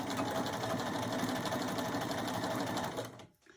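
A sewing machine stitches a hem with a fast, steady mechanical whir that runs without a break, then slows and stops near the end.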